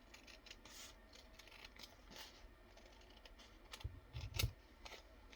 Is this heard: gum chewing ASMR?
no